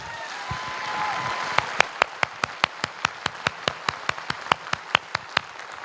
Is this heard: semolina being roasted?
no